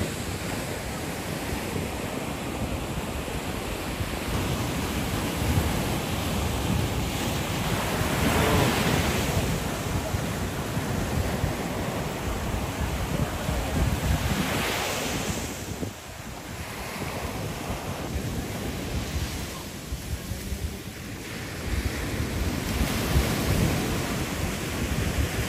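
Ocean waves roll in and break again and again at La Union, a loud, steady surf roar with heavy wind buffeting the microphone and no voices.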